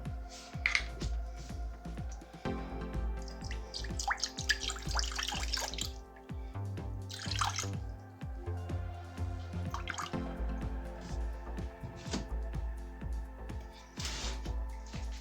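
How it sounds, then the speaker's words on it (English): Distilled water splashes and trickles as it is poured into a jug for a sugar solution, a quiet intermittent liquid patter with small drips and clinks. "So to this I'm adding 133 grams of distilled water."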